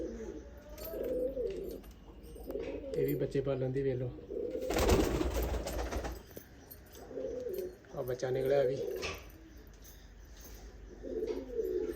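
Teddy pigeons at a breeding loft coo in low, throbbing bursts that repeat across the stretch, close and clear, while someone talks over them.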